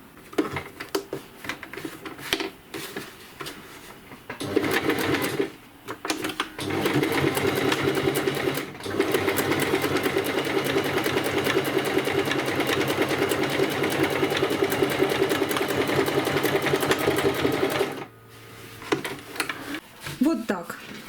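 A sewing machine stitches a seam through a quilt made from old denim, running in one long, steady, loud burst with short stops and starts at the beginning and end.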